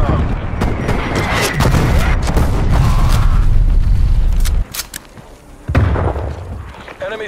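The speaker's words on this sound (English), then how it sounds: "Artillery inbound." Artillery shells slam down in a video game shooter as a dense, loud barrage of booming explosions and rapid bursts that then break into a few separate heavy blasts, with speech sounding alongside.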